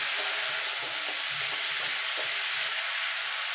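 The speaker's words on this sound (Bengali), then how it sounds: "এবার এটাকে ঢাকা দিয়ে আরও মিনিট খানিক আমি ভাজা করে নেব।" Mixed vegetables for a thin vegetarian curry sizzle steadily in a pan, with soft scraping stirs under the constant hiss.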